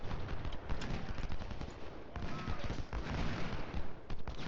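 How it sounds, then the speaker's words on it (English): Gunfire from a double-barreled shotgun in the Ultimate General: Civil War strategy game, with dense battle noise of massed musket fire and sharp reports running steadily throughout. "First with the double-barreled shotgun."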